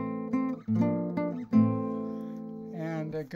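Piano playing a dark Phrygian minor progression with a flat 2 major chord, a few sustained chords struck one after another, close and clear with no talking.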